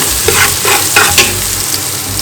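Garlic and ginger sizzle and crackle in hot oil while being stirred, a loud steady fry with scraping stir strokes, close and without talk.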